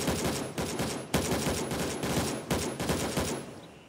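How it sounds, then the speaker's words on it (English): Rapid bursts of video game gunfire crack out in quick, uneven volleys, loud and close, with no talk over them. "Bro, you're getting shot at."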